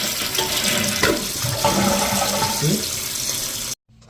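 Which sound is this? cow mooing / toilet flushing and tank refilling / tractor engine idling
toilet flushing and tank refilling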